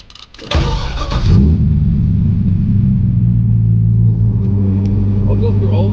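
A C6 Corvette starts up and settles into a steady, loud, deep engine rumble that carries on without a break, heard close up.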